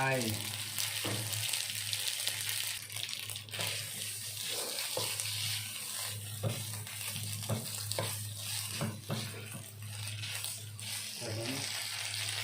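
Basil leaves stir-fried in a pan for green curry shrimp spaghetti: a constant close sizzle and hiss with scattered scraping stirs from the utensil, running steadily without speech.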